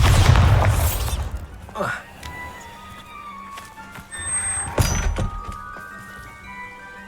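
Bombarda blasting-spell explosions in the video game Hogwarts Legacy, with a loud booming burst at the start and another sharp blast midway, amid game ambience and a voice speaking.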